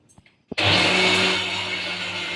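A kitchen blender bursts on after a few soft knocks and grinds food finely with a loud, steady whine that holds close up for about two seconds, with no talking.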